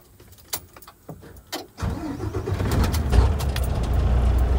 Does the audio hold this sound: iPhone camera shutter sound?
no